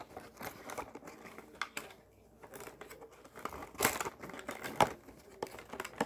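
Funko Pop packaging being unboxed, with plastic and cardboard crinkling and crackling in uneven bursts close up, a few sharper rustles standing out, and no talking.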